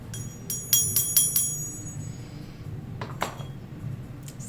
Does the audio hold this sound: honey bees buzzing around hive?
no